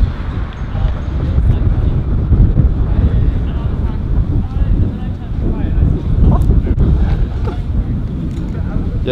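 Strong wind buffets the microphone with heavy low rumbling gusts, loud and continuous, while someone talks underneath.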